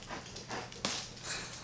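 A dog whimpers in short, high, breathy whines mixed with panting, close and fairly loud, repeating in quick bursts.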